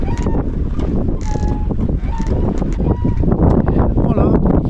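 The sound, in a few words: sailboat sailing at sea in the wind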